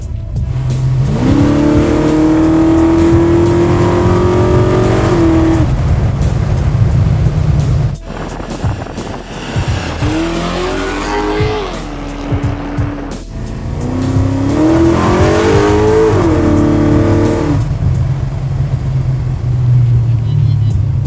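Loud V8 of a 1000 hp sleeper Chevy El Camino with a nitrous shot, revving and pulling hard in long rising and falling bursts, with brief lulls, close and dominant throughout.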